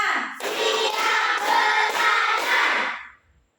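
Classroom children clap and chant together in a rhythmic group routine, short dense bursts of massed voices and hand claps in a steady beat that end abruptly into quiet.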